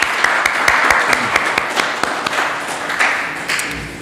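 A church congregation claps to welcome newcomers at a service, a brief burst of close, dense hand clapping with scattered taps and a voice underneath.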